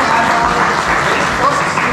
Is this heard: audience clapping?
yes